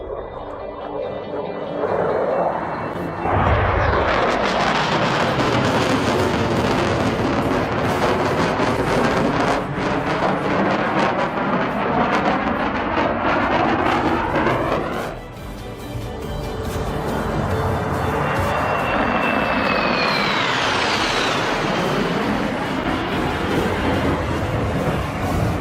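Loud, continuous roar of jet aircraft passing overhead at an air show in Switzerland, swelling and receding with a rumbling rush and whining tones, a second pass following after a brief dip.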